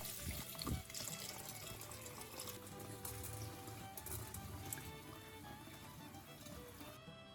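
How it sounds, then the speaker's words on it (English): Grapes rinsed under clean running tap water, a faint steady stream splashing and trickling into a sink throughout, with no voices. "simply rinse the grapes one more time under clean running water and let them drain until dry"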